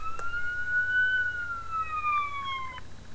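One long police siren sound effect tone sweeps up and gently down in pitch, close and prominent, stopping suddenly after about three seconds.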